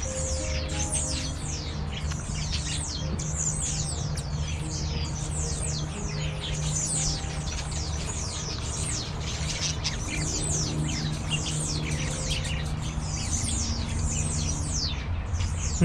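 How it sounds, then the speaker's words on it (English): Many birds chirp and squawk in an aviary at Butterfly World: dense, overlapping high calls and sharp squawks in a steady, continuous chorus, close and loud, with no voices. "Can you imagine being surrounded by these many birds?"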